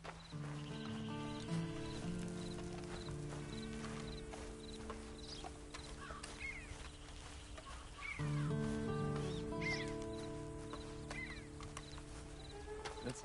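Faint, quiet clip-clop of horse hooves in the video game Red Dead Online, among layered ambient tones and mechanical clicks, with occasional bird-like chirps in the background.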